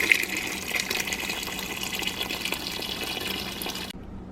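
Warm water pours steadily from a tap into a cooking pot for stuffed peppers after tomato paste, a continuous gushing fill that stops abruptly near the end.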